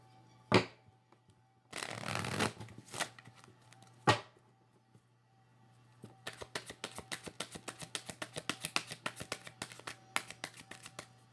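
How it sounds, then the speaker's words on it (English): Cards are riffled and shuffled by hand: a few sharp slaps and a brief riffle, then a long run of rapid, rhythmic flicking. "Two more shuffles."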